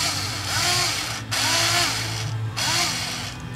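A power tool whirs in three loud bursts, with short pauses between, as stock screws are driven on a Jeep JK build, close and steady during each run.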